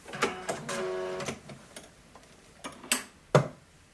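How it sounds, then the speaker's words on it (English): A sewing machine back stitching a seam, quick close bursts of mechanical ticking and whirring in short runs, separated by pauses and a few sharp clicks. "and sew that again. Back stitching at the end."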